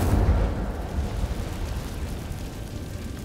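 Incendio fire spell cast in Hogwarts Legacy, a loud burst of flame with a deep booming onset that settles into a steady roaring crackle.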